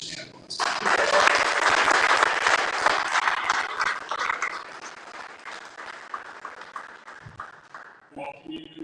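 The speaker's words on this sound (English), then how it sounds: "Please join me in a round of applause for our very own Mr. Santa Claus." Audience applause breaks out at a Pittsburgh Light-Up Night press conference as Santa Claus is welcomed, a loud, sustained clapping crowd that slowly fades, with voices heard near the end.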